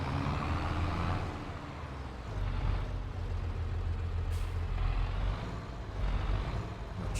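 Farming Simulator mower machinery: a steady, low engine drone with a mechanical hum, continuous and moderately loud, with no talking.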